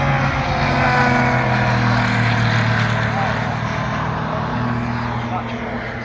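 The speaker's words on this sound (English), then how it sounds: "Twin turbo engine as they go up towards Allard" Classic sports car engines, including a twin turbo, race past on the Thruxton circuit, a loud continuous engine roar with steady low drone sustained throughout while a commentator talks over it.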